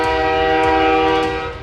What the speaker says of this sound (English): I jolted upright to the loud rattle of a train.